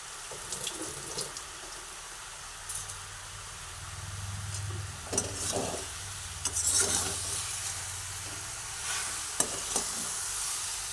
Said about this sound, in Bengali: চিনিটা দেওয়ার পরে চিনিটা আবার পুরো আমটার মধ্যে মিশিয়ে দিচ্ছি